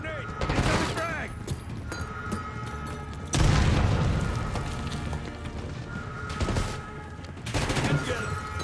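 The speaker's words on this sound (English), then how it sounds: "Throwing grenade! Incoming frag!" Call of Duty Black Ops 6 combat brings a heavy frag grenade blast with rolling gunfire and loud booms in several waves, and voices shout over the battle.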